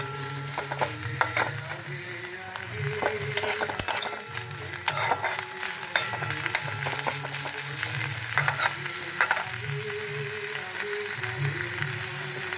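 Grated coconut being stirred and fried in a karai with a utensil, scraping steadily against the pan over a constant sizzle, close and continuous with repeated metallic clicks.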